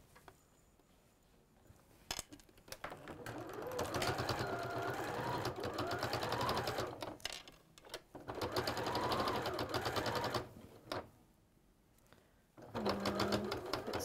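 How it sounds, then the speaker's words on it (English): A sewing machine stitches down a centre seam in bursts, running steadily for several seconds, pausing, then starting again, close and loud with brief quiet gaps between runs. "I'm going to sew down the centre seam from here all the way up to here"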